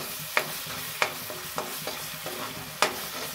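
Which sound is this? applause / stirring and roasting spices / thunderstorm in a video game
stirring and roasting spices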